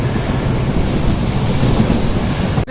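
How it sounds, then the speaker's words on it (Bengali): Steady rumbling roll of a passenger train running from Siliguri toward Hasimara beside a road, heard from on board as a loud, continuous low-frequency drone that cuts off abruptly at the end. "সেই রোডের পাশ দিয়ে আমাদের ট্রেনটা যাচ্ছে এখন"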